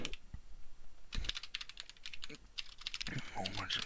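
Typing on a computer keyboard, quick irregular clicks of keys at close range, bursts of keystrokes with short pauses, a voice speaking faintly over parts.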